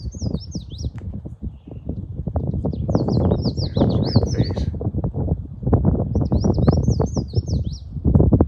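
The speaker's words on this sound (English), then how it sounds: "Listen to a bunch of red-faced warblers." Red-faced warblers sing high, quick chirping phrases in the upper part of a desert canyon, several bursts repeating in a loose sequence over a low, steady rumble that partly masks them.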